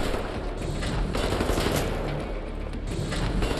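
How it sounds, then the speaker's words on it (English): Wolfenstein: The New Order combat with dense, continuous rapid gunfire and shots layered together, loud and sustained throughout, no talk. "Well, who's shooting at me?"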